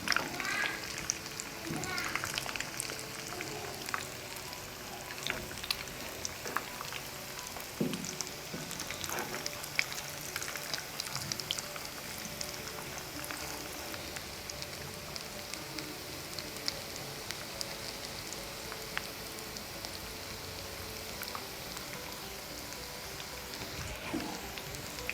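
Chicken koftas fry in oil in a pan, giving a soft, continuous sizzle with scattered small pops and crackles. The sound stays faint and steady throughout.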